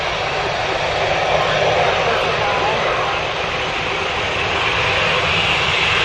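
An Airbus A350 jet at Manchester Airport gives off a steady, loud, broadband engine roar that holds constant throughout, with a voice talking faintly beneath the noise.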